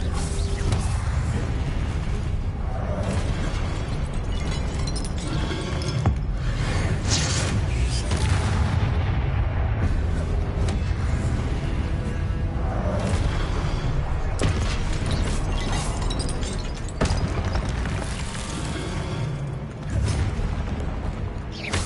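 Confringo blasting spells from Hogwarts Legacy go off as repeated booming explosions with whooshing and creaking debris over a steady bed of combat noise and music, with a voice speaking at times.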